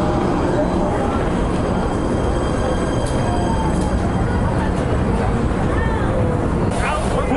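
Subway train running from Newark toward New York past Journal Square, a loud continuous rumble and rail roar inside the car throughout, with faint passenger chatter underneath.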